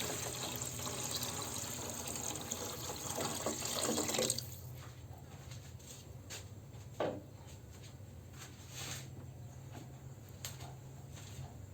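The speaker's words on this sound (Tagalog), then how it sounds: "Maglagay na tayo ng tubig." Water poured into a cooking pot of sautéed crab, with a loud, steady rushing stream for about four seconds, then a softer bubbling sizzle with a few knocks.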